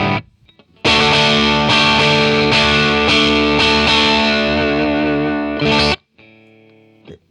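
A distorted electric guitar through a Line 6 Catalyst amp plays loud, sustained chords with heavy saturation and strummed attacks for about five seconds, then cuts off and leaves a faint ringing tail.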